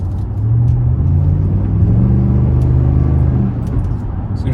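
Ram 1500 pickup truck driving, a loud steady low engine rumble and road noise heard from close by, with no talk.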